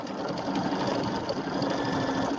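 An embroidery machine stitches quilted borders and flanges, a steady fast mechanical whir with a rapid needle chatter running evenly throughout at moderate volume.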